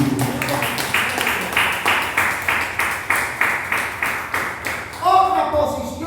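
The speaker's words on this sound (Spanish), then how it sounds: "Den un aplauso al Señor." A church congregation claps in a steady rhythmic beat for about five seconds, with many hands striking together in time, and then a voice breaks in over the last second.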